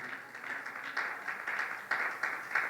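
Applause from a church congregation, a steady wash of many hands clapping with small surges, moderately distant and continuous.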